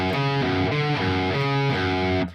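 Distorted electric guitar playing the first measure of a riff, a quick chugging run of low picked notes in a steady rhythm, loud and alone.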